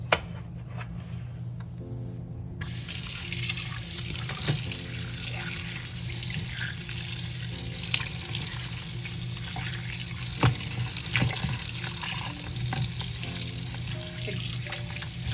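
Water runs steadily from a kitchen tap over three lobster tails being rinsed with a little vinegar in the sink, a continuous splashing stream with occasional drips and knocks.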